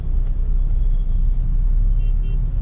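Mahindra Scorpio creeping slowly through traffic in low gear, a steady low engine and road rumble heard from inside the cabin, with faint high tones briefly surfacing and no speech.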